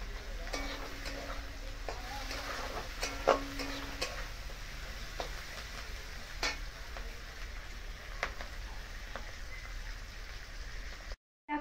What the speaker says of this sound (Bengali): এবার দিয়ে দিচ্ছি মাছের মাথাটা